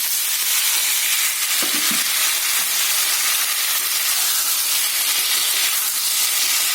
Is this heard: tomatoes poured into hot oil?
yes